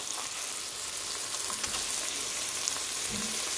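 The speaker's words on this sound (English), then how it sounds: "Already it's time to flip our burgers." Burger patties sizzle steadily in a frying pan, a dense crackling hiss with light pops, continuous and fairly quiet, with no talking.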